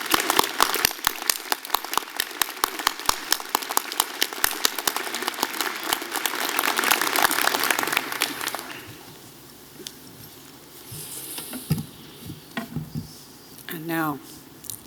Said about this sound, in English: Let's give a round of applause to the head of Alumni UBC, Jeff Todd.